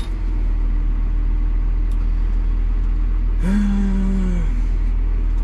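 A CLAAS Axion 950 tractor with a throttle pedal fault runs with a steady, loud, low engine rumble throughout, and a brief drawn-out tonal call, like lowing cattle, rises and fades midway.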